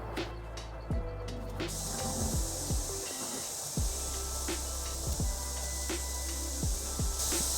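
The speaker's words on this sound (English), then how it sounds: "here comes our upper trampoline area with some MP rotors on it" MP rotor sprinklers spray water over a lawn by a trampoline in a double-coverage irrigation layout, giving a steady, broad hiss of spray with soft recurring ticks and thumps throughout.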